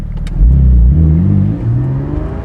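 Porsche 718 Spyder engine revving high, a loud, close rise in pitch that peaks, eases slightly, then climbs again before settling, heard alone without talk.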